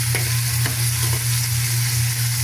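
Garlic, onion and tomato sauté in a hot pan, giving a loud, steady, close sizzle throughout with a few faint stirring scrapes and no talking.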